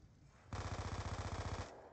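Rapid automatic gunfire from a Dragonfire drone in the Black Ops II video game, a steady burst of rattling shots lasting over a second, loud and alone.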